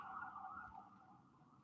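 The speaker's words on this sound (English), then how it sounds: "that's an ambulance" Ambulance siren heard from outside, a faint wailing tone that holds briefly and then fades as it passes, with no talking.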